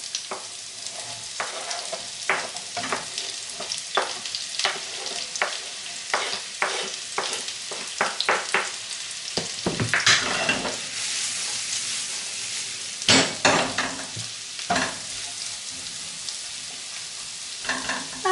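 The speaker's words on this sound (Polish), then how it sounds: "Na patelni mam rozgrzany tłuszcz i wrzucam warzywa." Chopped vegetables, including beets, fry in hot fat in a pan, with a continuous sizzle broken by repeated scraping and stirring strokes that sound close and fairly loud.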